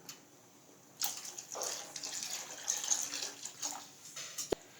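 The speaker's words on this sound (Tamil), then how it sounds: "இப்போ அரைச்சி வச்சிருந்த பச்சரிசி மாவை ஊற்றிக்கலாம்." After a second of quiet, thick ground raw rice batter pours steadily into a pot with soft splashing and gurgling, ending with a small clink.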